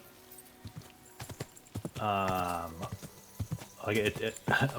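Horse hooves clip-clop along in Kingdom Come: Deliverance 2, a steady rhythmic patter under a voice, with another voice briefly cutting in.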